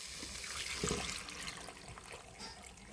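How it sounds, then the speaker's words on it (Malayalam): Water pours and splashes into a cooking pot of curry leaves and green chillies, a short gush followed by softer trickling. "നമുക്ക് വേവാൻ ആവശ്യമായ വെള്ളം ഒഴിക്കാം"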